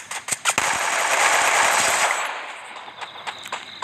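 Assault rifle gunfire in a video game: rapid bursts of sharp close shots, a dense run of automatic fire in the first two seconds followed by scattered single cracks.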